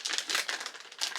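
A small plastic bag of sweets is torn open and handled close by, giving a run of bright, irregular crinkles and crackles that rise and fall in quick bursts.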